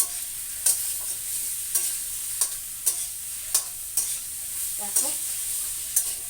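Thick taro (kochu) sautéed and stirred in a pan: a steady sizzle with a spatula scraping in regular strokes about once a second, close and clear, with a brief word spoken once.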